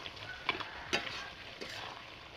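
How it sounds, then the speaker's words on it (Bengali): Mutton curry fries quietly in a pan while a spoon stirs it, a soft sizzle broken by a few faint scraping clicks. "ঢাকনা দিয়ে এটাকে ভাজতে হবে, কষতে হবে মাংসটাকে ভালোভাবে।"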